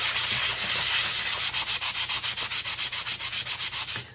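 Steady rhythmic rasping of a nail file worked back and forth, close and fairly loud, with regular strokes speeding into an even pulse before stopping.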